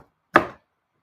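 One sharp knife chop through rhubarb stalks on a cutting board, a single crisp close cut followed by silence.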